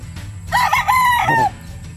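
A Boston cross gamefowl rooster gives one loud, close crow lasting about a second, rising and then holding over faint farmyard background noise.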